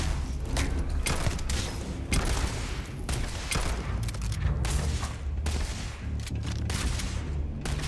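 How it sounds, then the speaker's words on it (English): A hostile turret fires in the Starfield video game, a dense, continuous fusillade of loud, close rapid shots with booming impacts and mechanical clatter, and no talk. "I am opening fire."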